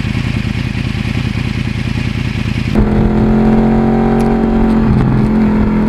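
Yamaha R1 crossplane motorcycle engine heard on board while riding, a loud continuous throaty drone that shifts into a steadier, higher harmonic tone partway through, with wind noise and no talk.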